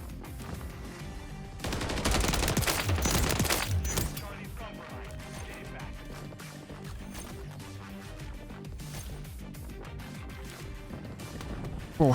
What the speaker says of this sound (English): they're all kind of shooting at each other right now